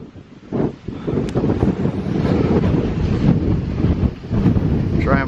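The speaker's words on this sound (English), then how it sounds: "Whoa, it's windy" Strong wind on an Appalachian Trail mountain overlook near Big Meadows buffets the microphone in loud, continuous gusts, with rushing water faintly beneath.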